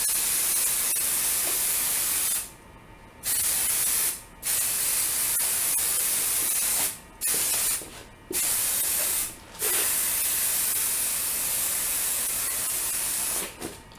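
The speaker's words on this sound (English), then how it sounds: "And I'm going to give it a spray." A spray bottle mists a pinned quilt top for basting, giving several loud, sustained hissing bursts of varying length separated by short pauses, with no voices.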